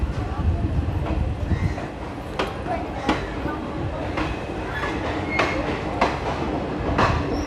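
The Bhagalpur Jaynagar Express passenger train rolls past at a station with rhythmic clickety-clack wheel beats and occasional sharp metallic clanks over a steady rumble, with faint voices in the background.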